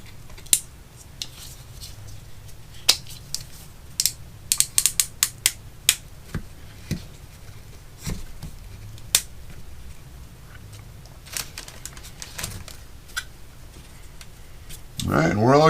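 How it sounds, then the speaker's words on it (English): Small clamps snapping onto the tail section of a model airplane, a scattered series of sharp clicks and ratcheting snaps close by over a quiet room, with a voice at the very end. "I've got a couple little clamps here. I'm going to get the tail section clamped up."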